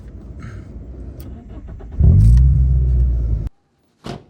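An old Reynolds Sport car, 23 years old, pulls away with a rising engine rumble and acceleration for about a second and a half before cutting off sharply, followed by a brief faint noise.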